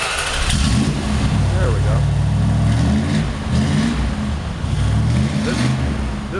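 1972 Plymouth Fury 440 wagon, ex-fire department, cranks and catches, then its big V8 revs in several rising and falling bursts, loud and close, with someone speaking briefly over the engine.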